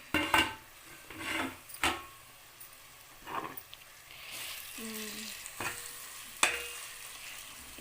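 Tomatoes cook in a pan for an onion egg masala curry, with a spoon scraping and stirring in bursts over a soft frying sizzle, close and fairly loud, with no talk.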